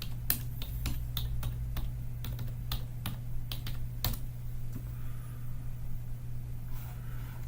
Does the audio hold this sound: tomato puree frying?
no